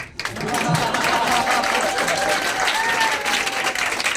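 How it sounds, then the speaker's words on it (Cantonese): An audience at a sharing session breaks into applause, a dense, steady clatter of many hands clapping together that holds strongly for about four seconds. "他比較害羞啊，所以掌聲給他"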